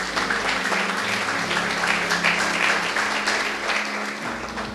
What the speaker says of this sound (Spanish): Denle un aplauso al bendito sea.